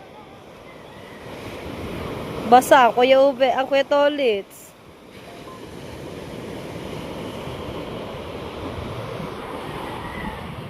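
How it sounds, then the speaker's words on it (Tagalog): Heavy surf rolls and roars continuously with wind buffeting the microphone, while someone shouts briefly over the waves. "Laki ng alon, oh."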